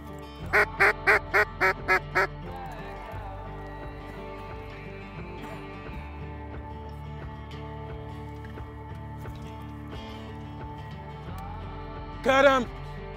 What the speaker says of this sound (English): All right, here comes some ducks